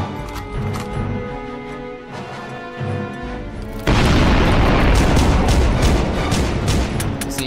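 A loud explosion goes off in the SpongeGlock SquarePants shooter game. Quieter game sounds lead up to a sudden roaring blast that keeps rumbling heavily to the end.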